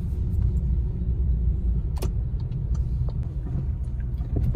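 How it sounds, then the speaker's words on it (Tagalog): Steady road traffic rumbles in Pasay, Manila, heard from inside a car, a continuous low drone with faint clicks and knocks and no voices. "As usual, it's a traffic."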